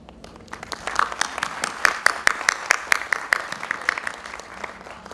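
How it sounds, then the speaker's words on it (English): A seated audience at a National Technology Day public oration gives honoured guests a warm round of applause, sharp individual claps swelling into steady clapping that fades toward the end, with no talk over it. "Please join me again giving a warm round of applause to our honorable guest."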